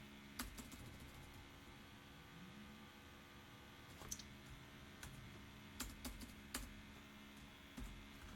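Soft clicks of a computer keyboard as someone types code, scattered keystrokes in small clusters over a steady background hiss.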